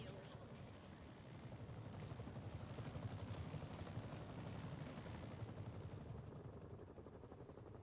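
Police helicopter in the Marvel's Spider-Man video game, a faint continuous rotor chop and drone that holds steady throughout, with a rapid pulsing beat and no clear talk.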